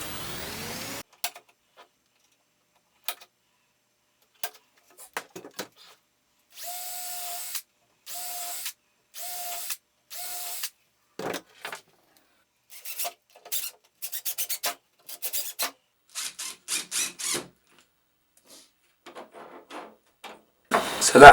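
Screws are driven through a caster into a small wooden platform for a mobile table saw station, with short bursts of a cordless driver whirring and ratcheting, separated by quiet pauses, close by.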